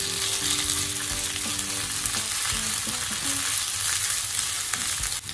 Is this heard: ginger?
yes